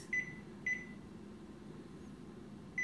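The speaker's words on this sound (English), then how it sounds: "set the timer for 22 minutes" A kitchen oven timer being set gives three short, sharp beeps spaced unevenly over a quiet room hum, alone with no talking.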